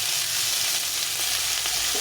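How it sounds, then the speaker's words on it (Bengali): Tomatoes frying in a pan for a Bengali fish curry with eggplant, potato and beans, a steady close hiss of sizzling oil throughout with no talk. "এখন টমেটোটা একটু ভেজে নেব।"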